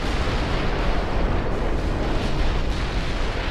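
Naval gunfire and shell hits in the game Ultimate Admiral Dreadnoughts: a continuous loud roar of booms and explosions blending into a dense rumbling wash, with no speech.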